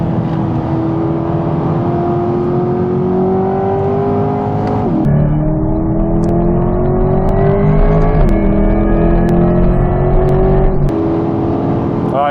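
A Corvette C8 Z06 engine driven flat out on a race circuit at Zolder, loud and close, its high-revving note climbing steadily, then dropping sharply at each of several upshifts before rising again, with no talk over it.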